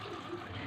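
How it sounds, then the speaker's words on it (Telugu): Water is poured into a pressure cooker holding dal with tamarind, onion, curry leaves and spices, a faint, steady splashing hiss lasting under a second. "సరిపడా వాటర్ పోసుకోవాలి"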